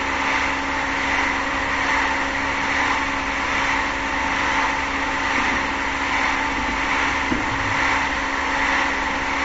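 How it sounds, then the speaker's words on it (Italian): Cessna 172 engine run up to full throttle in flight, a steady loud droning hum with a constant tone and no breaks, heard alone without voices. "metto tutto motore, dobbiamo accelerare un po'"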